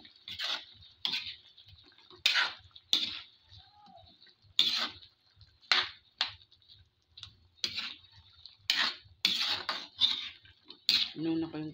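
Eggplant pieces dropped into a pan of sautéed squash and sardines, with sharp repeated clatters and scraping of a utensil against the pan in irregular bursts, close and fairly quiet, under faint background hum.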